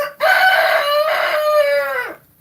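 A rooster crows once, loud and close, a long drawn-out cock-a-doodle-doo lasting about two seconds, among backyard chickens during a Texas winter storm, with no talking.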